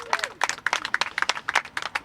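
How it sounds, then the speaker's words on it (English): Audience clapping at a press conference for a helicopter noise task force, with scattered, uneven hand claps that sound sparse and fairly light rather than a full ovation, plus a faint voice underneath. "Let's give them another big round of applause."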